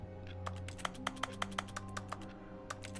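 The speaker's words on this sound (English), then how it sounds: "I'm not looking at a computer, but it sounds like I'm typing away" Keyboard typing sound effect triggered by pressing the X button in The Stanley Parable: a steady run of close, crisp key clicks at an uneven rhythm over a constant low background hum.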